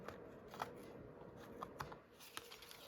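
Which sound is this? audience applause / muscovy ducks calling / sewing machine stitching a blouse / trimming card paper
trimming card paper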